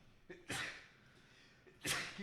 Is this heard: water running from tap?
no